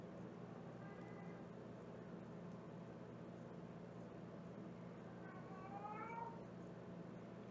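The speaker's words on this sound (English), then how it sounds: "He found my girl cat." A female house cat meows twice, faint and somewhat distant, a short cry followed later by a longer, wavering call over a steady background hum.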